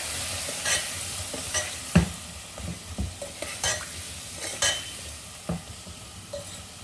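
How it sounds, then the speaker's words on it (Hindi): Salt, turmeric, coriander and red chilli powder roasting in a pan for aloo methi, a soft sizzle broken by repeated scraping strokes of a spoon, close and fairly quiet, with no one talking. "एक 2 मिनट तक इसे अच्छे से भूनेंगे"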